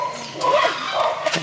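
A husky dog giving short yelping barks and whiny vocal sounds in a few uneven bursts, close by and moderately loud.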